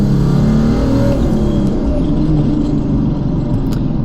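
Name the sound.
1995 Mercedes-Benz E300 turbo diesel car accelerating through gears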